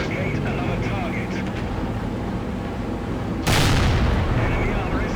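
A tank main gun fires in a World of Tanks style battle game, one sharp loud blast cutting through constant engine rumble and battle noise, with a long ringing tail.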